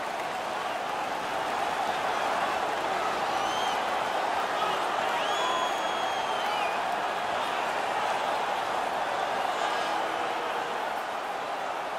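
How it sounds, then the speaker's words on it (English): Arena crowd noise in the NHL 19 hockey video game during a Columbus Blue Jackets versus Boston Bruins playoff game, a continuous roaring murmur of cheering fans, steady and fairly loud, with faint whistle-like tones over it. "The crowd is all over them right now."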